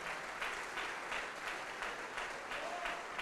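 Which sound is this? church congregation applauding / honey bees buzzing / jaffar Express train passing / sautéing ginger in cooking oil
church congregation applauding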